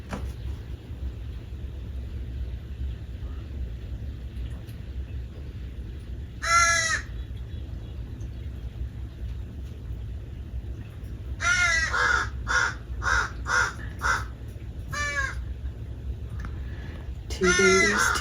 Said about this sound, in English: There's the family of crows.